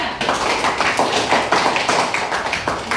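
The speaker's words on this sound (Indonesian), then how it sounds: "Tepuk tangan untuk kelompok 3." A classroom group claps for the third team's presentation, quick close hand claps in an uneven rhythm, loud and continuous without talk.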